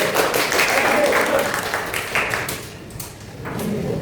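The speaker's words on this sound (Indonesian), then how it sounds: "Tepuk tangan." Students in an Indonesian Islamic studies classroom applaud a classmate coming forward, a short burst of clapping that fades after a couple of seconds, with talk around it.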